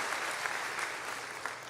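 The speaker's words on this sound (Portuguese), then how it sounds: "Dê uma salva de palmas ao Senhor" Steady applause from a church congregation, fairly faint and continuous, with no talk over it.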